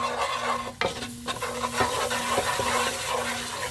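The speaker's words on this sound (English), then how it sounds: "Now I'm going to stir in the milk." Milk is stirred into a flour-and-butter sauce for homemade scalloped potatoes, a spoon scraping and clinking against the pot in a few distinct strokes over a soft sizzling background.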